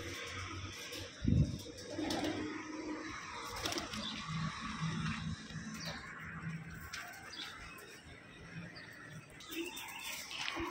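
Pigeons coo softly at a distance, with a few low, faint calls over quiet ambient noise.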